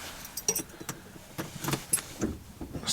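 Central locking on a Smart car that refuses to start, clicking as the doors unlock: a quick series of short, sharp mechanical clacks close by, fairly quiet, with no voices.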